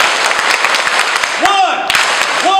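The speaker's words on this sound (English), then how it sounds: "One clap, two claps, three claps" School assembly audience claps in unison on cue, a few sharp group claps spaced out amid crowd noise, with a voice talking over them.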